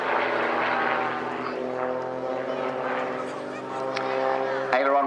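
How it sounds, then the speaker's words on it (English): An XtremeAir XA41 aerobatic plane at an air show, its propeller engine droning loud and steady through a torque roll, then briefly surging near the end, with a commentator talking over it. "that's where the aircraft is rolling backwards around the engine"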